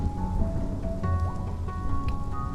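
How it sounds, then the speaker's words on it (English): Steady rain falls over a place of smooth rocks, a dense continuous hiss with soft tonal music layered over it and no talking. "It never stops raining."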